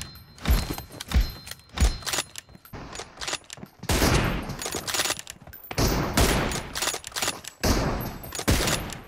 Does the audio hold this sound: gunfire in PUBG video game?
yes